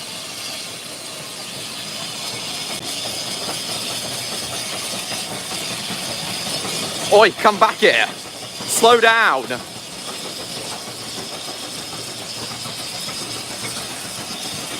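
Hercules, a steam locomotive in LMS maroon livery on the Romney Hythe and Dymchurch Railway, rumbles steadily with broadband steam and engine noise throughout, while a man calls out loudly over it in brief shouted bursts.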